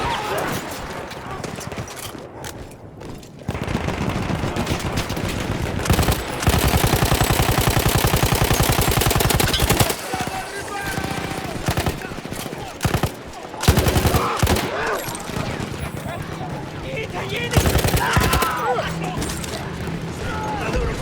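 Mounted machine gun fire in Battlefield 1, a wartime shooter, with long sustained bursts of loud rapid shots broken by short pauses over about twenty seconds, mixed with game battle noise and voices.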